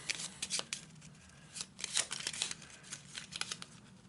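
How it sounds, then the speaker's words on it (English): A deck of cards from an Arkham Horror board game is shuffled quickly, making crisp, rapid riffling snaps in short bursts, close and fairly quiet. "Quick shuffle."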